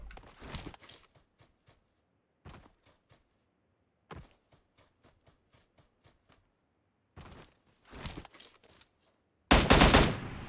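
Bursts of gunfire from a PUBG battle, with several separated volleys of rapid shots; the loudest and densest burst comes right at the end, and no one speaks.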